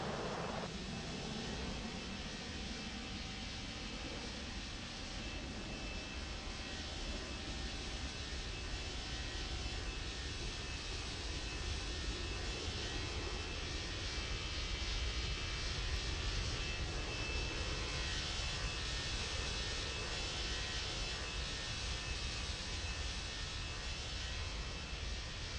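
Airliner taking off in the World of Airports video game: a steady, loud broadband jet engine roar holding for the full length, dense and unchanging, with no voices.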